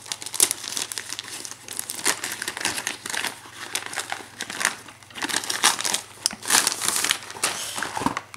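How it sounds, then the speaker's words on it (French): Crinkling plastic wrapping as a box of chocolates is opened, a busy run of crisp rustles and crackles lasting several seconds, close and fairly loud, with no talking. "Alors ça, on dirait plutôt que c'est une boîte de chocolat. On va l'ouvrir ensemble."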